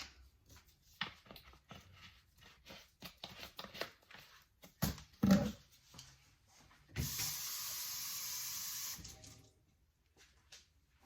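Water running from a kitchen tap during candy making, a steady rush for about two seconds after scattered clinks and knocks of utensils and containers.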